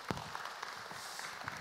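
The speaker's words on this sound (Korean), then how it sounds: "다시 한 번 박수 부탁드리도록 하겠습니다" Audience applause at a citizens' talk concert on transportation culture, a faint, steady patter of many hands clapping, sounding distant and evenly spread.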